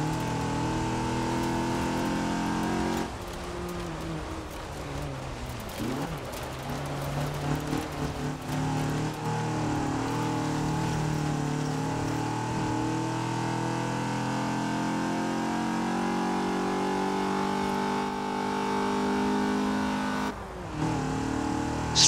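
A stock 1980 Fiat 124 Sport Spider in Forza Horizon 4 drones loudly and steadily at speed, with brief dips where the gears change near the start and close to the end.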